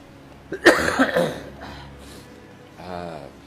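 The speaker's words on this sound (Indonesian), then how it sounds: "Maaf sahabat-sahabatku nih, masih batuk-batuk aja." A sharp cough bursts out loudly, followed by a couple of softer coughs and a throat-clearing rasp, close up with a speaking voice nearby.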